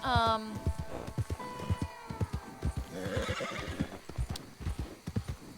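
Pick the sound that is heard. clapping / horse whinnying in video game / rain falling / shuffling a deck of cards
horse whinnying in video game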